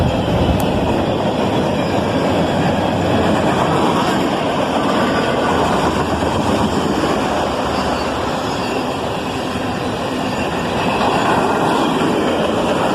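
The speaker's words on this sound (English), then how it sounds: "with a pair of ES40 DCs leading this southbound manifest train" A CSX southbound manifest freight train led by a pair of ES40DC locomotives rolls past, a loud, steady broadband rumble and rail roar that holds evenly for the whole stretch with no voices.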